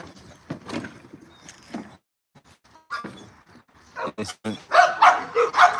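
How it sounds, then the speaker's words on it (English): A dog at home barks in several sharp bursts, clustered near the end, with people talking close by in between. "Very nice dog right here, man."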